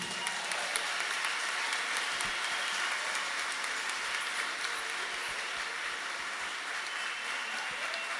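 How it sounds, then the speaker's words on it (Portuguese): A church congregation at a leaders' gathering applauds as one steady, continuous wash of clapping that holds at an even level throughout. "Aplauda ao Senhor aí, meu irmão"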